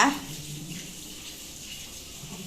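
Water pours steadily into a spice mixture in a bowl for sardine (boothai) fry, a soft continuous splashing rush, close and fairly quiet.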